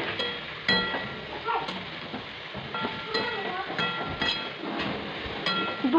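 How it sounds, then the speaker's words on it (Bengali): Chopped bottle gourd sizzling and crackling in hot oil with tempering spices as it is stirred, a steady close frying hiss broken by scraping clicks of the spatula, with no voices. "কেটে রাখা লাউটা তেলের মধ্যে দিয়ে দিলাম এবং আমি ভালোভাবে ফোড়ন আর লাউটাকে ভালোভাবে তেলের মধ্যে নাড়াচাড়া করে নিচ্ছি।"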